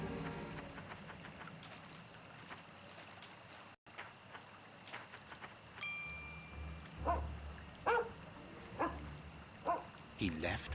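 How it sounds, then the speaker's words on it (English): A dog named Toby in a Sherlock Holmes video game gives several short barks in the latter half, over a steady ambient bed and spoken game dialogue. "Good dog, Toby."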